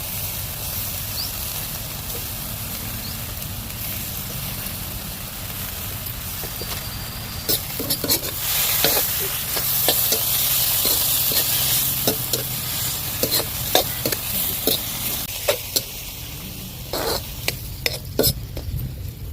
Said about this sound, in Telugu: ఈ చిన్న టమాటాను కూడా వేసి బాగా మగ్గనివ్వాలి